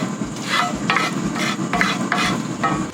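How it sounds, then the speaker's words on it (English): Flour for a smoked sausage gravy roux is stirred with a wooden spoon in a pan, making rhythmic scraping strokes over a constant frying sizzle, loud and close, with no speech. "Take my wooden spoon here, and then I'm just gonna stir it all in, cooking that flour out"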